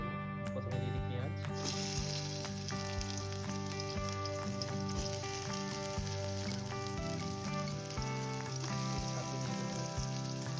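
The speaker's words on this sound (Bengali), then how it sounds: "মোটামুটি কড়াইতে তেল গরম হয়ে গেছে। এবার আস্তে আস্তে আমরা একটা একটা করে জিনিস দিতে হবে। প্রথমে দিয়ে দিই পেঁয়াজ," Onions sizzle as they fry in hot oil in a wok, a continuous hiss with occasional utensil taps, under background music.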